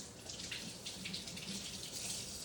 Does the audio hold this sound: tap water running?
yes